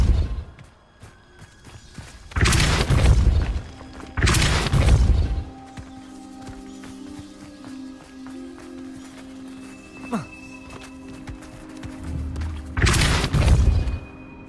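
Three loud booming blasts from a Confringo curse in a Harry Potter magic video game, spaced apart with quieter game ambience and a faint voice between them.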